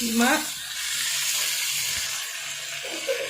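Boiled beef keema seasoned with salt, ginger, garlic and turmeric hits a pan of fried masala with a loud burst of sizzle, then settles into a steady close hiss with a faint voice at the start and end.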